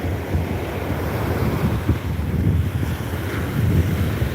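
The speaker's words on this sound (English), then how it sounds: "All I hear is waves." Ocean surf heard from a parked truck at night, a continuous low rumbling wash of breaking waves with gusty wind buffeting the microphone, steady and fairly loud throughout with no voices.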